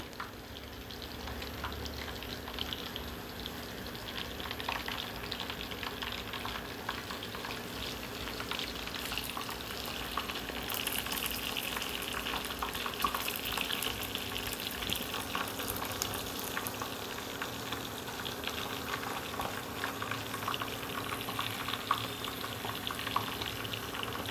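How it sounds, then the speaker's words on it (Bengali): Batter-dipped beguni, eggplant rolled with chhana and fried in oil, sizzles in a steady, dense hiss that stays loud and even for the whole stretch, with no talking. "সেগুলো ব্যাটারে চুবিয়ে এবার আমি তেলের মধ্যে ছেড়ে দেব।"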